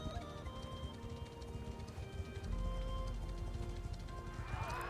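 Horses galloping in the video game Mount & Blade II Bannerlord, a dense rumble of hoofbeats under steady battle noise with a rising swell near the end.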